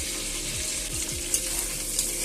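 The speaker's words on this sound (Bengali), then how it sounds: "তেলটা আমার অনেকটাই ভাজা হয়ে গেছে" Fish oil fries steadily in a pan for a dish with cauliflower stalks, a continuous loud hiss and crackle of rendered fat with a few faint scrapes of stirring, close and alone without speech.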